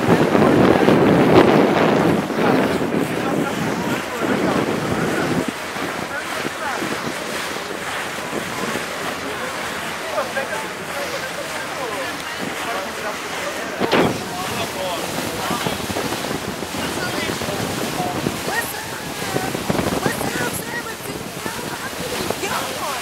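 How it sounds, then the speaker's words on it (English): Strong, constant wind buffets the microphone on a boat cruise around Manhattan, mixed with engine and water rush; voices talk faintly underneath throughout. "Wind loud."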